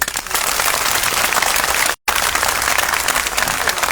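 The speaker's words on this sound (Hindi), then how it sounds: "जोरदार ताली बजाएं।" Large crowd at an outdoor protest sit-in at Jantar Mantar, New Delhi, clapping loudly and continuously, a dense roar of hands broken by a brief dropout near the middle.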